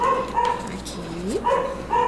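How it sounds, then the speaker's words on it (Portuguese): A dog barks at a truck at the door with a few short yips and whimpering barks, mostly masked by someone speaking close by while sewing. "Desculpe o cachorro latindo, porque ele está"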